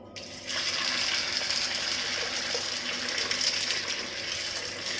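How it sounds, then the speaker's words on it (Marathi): Water gushes steadily into a container after a brief quiet start, a continuous splashing pour with no talking. "परत आता दुसरं पाणी"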